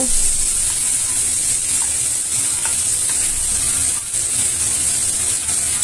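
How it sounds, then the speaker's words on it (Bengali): Paneer cubes lightly frying in oil for a wedding-style matar paneer, giving a steady, close, hissing sizzle that runs throughout with faint stirring clicks. "এখন আমি পনিরটাকে আমি হালকা করে ভেজে নেব"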